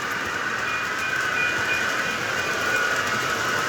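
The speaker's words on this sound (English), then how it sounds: "It's got the normal freight yard arrival sound effect thing" Steady rail-yard rumble with a constant whine and faint metallic tones from an O gauge model locomotive's freight yard arrival sound effect, playing continuously at moderate volume.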